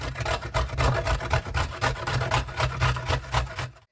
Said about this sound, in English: So guys, I'm now going to grate up my ginger.